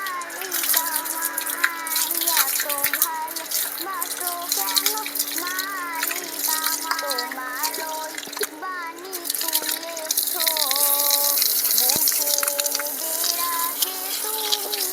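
Water poured and splashing over a cow during a bath, a continuous gushing, splattering wash up close with a voice and other talk over it.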